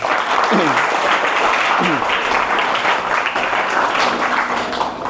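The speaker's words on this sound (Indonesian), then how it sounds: "Tepuk tangan buat adik semuanya" An audience at an Islamic lecture gathering claps together in a loud, continuous burst lasting several seconds, with a few voices calling out briefly over the applause.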